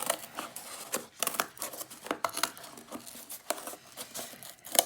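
Scissors snip notches around a cardboard circle for a weaving base, giving a steady series of short, crisp cuts with faint crinkling, close and fairly quiet with no talk.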